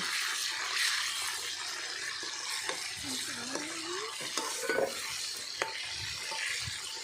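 Pork frying in salt in a pan for a Thai home lunch, with a loud steady sizzle close by and scattered clinks and scrapes of stirring throughout.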